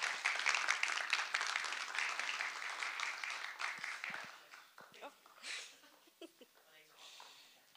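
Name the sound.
audience applause as panelists come on stage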